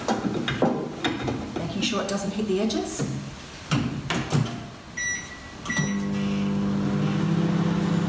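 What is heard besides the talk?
microwave oven heating a wheat bag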